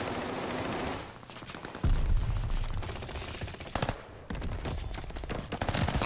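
Rapid automatic bursts from an Armaguerra 43 submachine gun in Call of Duty, loud and close, firing in several sustained strings with short pauses between them.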